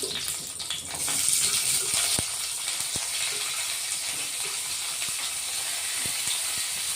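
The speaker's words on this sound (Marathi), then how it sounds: "कढईमध्ये थोडं तेल टाकून घेतलंय. आता 2 ते 3 मिनिटं आपण कारले परतून घेणार आहे" Chopped bitter gourd frying in oil in a wok, a loud continuous sizzle and hiss with occasional sharp clicks of a stirring spoon, close up and with no talk.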